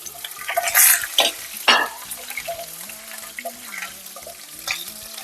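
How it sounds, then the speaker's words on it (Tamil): Cinnamon, cloves, cardamom, star anise, bay leaves and green chillies sautéing in hot oil for Saidapet-style vada curry: spoon scrapes and bursts of sizzling, loud and close, easing into a softer continuous fry. "பட்டை, கிராம்பு, ஏலக்காய், ஒரு அன்னாசிப்பூ, 2 பிரிஞ்சி இலை, பச்சை மிளகாய் சேர்த்து நல்லா வதக்கி விடலாம்"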